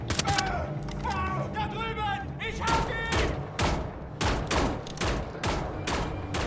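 Gunfire rattles in Wolfenstein: The New Order at a lunar base, dense rapid bursts of shots repeating loud and close, with someone talking over the opening moments.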